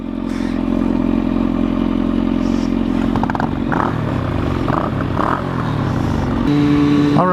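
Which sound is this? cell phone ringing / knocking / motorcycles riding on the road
motorcycles riding on the road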